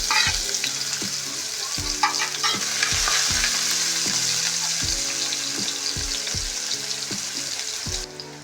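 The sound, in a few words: chopped onions frying in a pan for baby corn Manchurian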